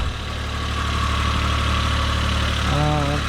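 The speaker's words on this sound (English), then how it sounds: "It's idling high, but it's cold, so we'll forgive that." Cold engine idling at a high, steady speed, a continuous close mechanical drone with a brief whine-like rise near the end.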